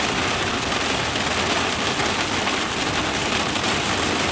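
Steady rain falls outdoors, a dense, continuous wash of drops hitting surfaces that stays even and fairly loud throughout with no voices.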